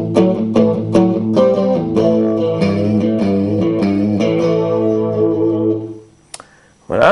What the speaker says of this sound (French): Avec un delay court par exemple pour faire du rockabilly.